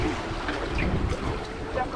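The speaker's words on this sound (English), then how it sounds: "It's pretty windy today." Strong wind buffets a fishing boat out on the ocean during mahi mahi fishing, a steady roaring rush with faint water wash beneath it, loud and continuous throughout.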